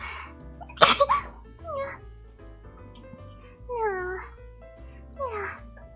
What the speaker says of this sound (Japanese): あ、くしゃみです。